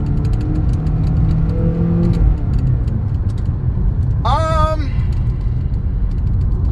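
A 2013 Honda Accord with a CVT accelerating over a bumpy road, low engine drone and road rumble with rattles and knocks, a short voice passing over midway.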